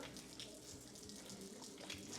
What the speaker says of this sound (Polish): I mamy wodospad.